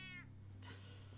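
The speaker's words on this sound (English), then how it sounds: "It's an ugly cat." A short meow from a cat in Batman: The Telltale Series, heard once at the start over a low steady hum, followed by a faint, indistinct sound.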